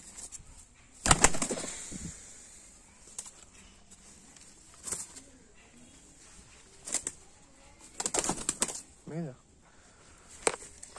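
A tumbler pigeon beats its wings in several sharp, loud flurries of flapping scattered through the clip, close by, with quieter gaps and a brief coo between bursts.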